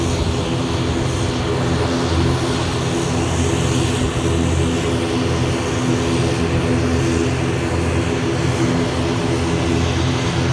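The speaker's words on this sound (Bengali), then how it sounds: "কাতার এয়ারলাইন্সের একটা বড় বিমান একটা ল্যান্ড করতেছে" A large Qatar Airways airliner landing makes a loud, steady engine roar that fills the whole stretch and stays constant throughout, with no voices.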